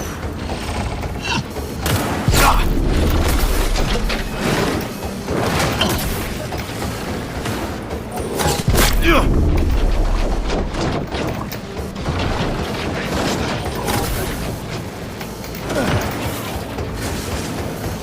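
Gunfire and crashes in the Cyberpunk 2077 video game, loud bursts of shots and impacts in several waves over a busy mechanical backdrop.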